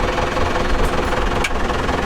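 A tractor engine runs on a farm while a container of hens is delivered, giving a loud, steady, close rumble that continues with no break and no voices.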